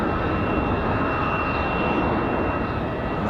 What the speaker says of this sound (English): Nice smooth touchdown for American